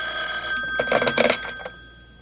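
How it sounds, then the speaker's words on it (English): An old-fashioned telephone bell rings in short bursts during a mystery radio drama, loud and close, then fades away. "The phone? Can't you hear the phone?"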